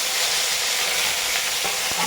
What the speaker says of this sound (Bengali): ভালো করে নাড়াচাড়া করে একটু ভাজা ভাজা করে নিই টমেটো দিয়ে